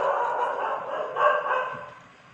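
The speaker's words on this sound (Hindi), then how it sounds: "बाहर कुत्ते भौंक रहे हैं" Dogs barking outside at night, a cluster of yips and barks at moderate distance, strongest in the middle and fading toward the end, with no talking over them.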